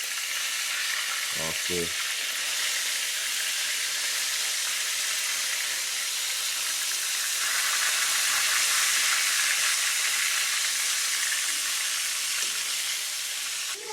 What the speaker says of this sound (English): So after you fry both sides, now you just put it to sit up, to fry.